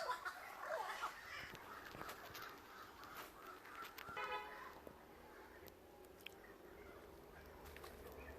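Large birds calling near coconut trees, with harsh caws coming at scattered moments through a faint outdoor background, fairly distant and quiet overall.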